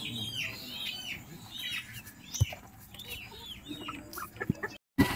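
Hens cluck and murmur in a repeated chorus at moderate distance, with a few sharp knocks and a brief dropout near the end.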